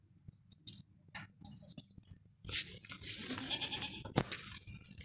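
Goat bleating at a rural livestock sale, where a healthy, broad-chested doe is being shown; several short, moderately close bleats and animal stirrings, with a louder burst near the end and no talking.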